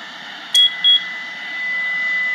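Infinite Flight flight simulator sounding its takeoff warning alarm in a video game: two short, loud electronic beeps in quick succession over a steady engine hum, with no talking.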